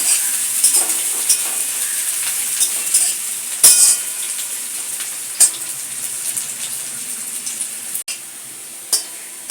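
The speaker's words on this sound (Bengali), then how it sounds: "এবারে আমি পেঁয়াজটাকে ব্রাউন ব্রাউন করে ভেজে দেবো" Onions fry toward brown in a pan for a chicken stomach curry, a loud continuous sizzle with sharp spatters, a few metal clinks of a utensil and one brief scrape, no talking.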